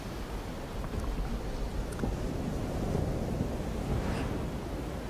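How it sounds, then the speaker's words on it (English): Beach surf rolls in as a steady, broad wash of breaking waves with gusty wind noise, close and continuous with no voices. "Beach sounds."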